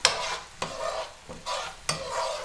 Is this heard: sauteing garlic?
yes